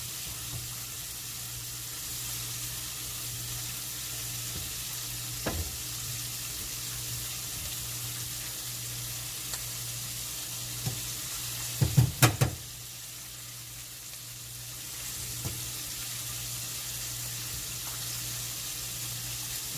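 Salt and pepper chicken wings stirred in hot frying oil give a steady low sizzle, with a few soft clicks and a short cluster of utensil knocks midway.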